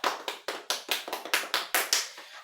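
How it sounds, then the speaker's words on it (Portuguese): Children clap for Jonas in about ten quick, sharp claps, close and a little uneven in rhythm, with no talking over them. "vamos bater palmas pro Jonas."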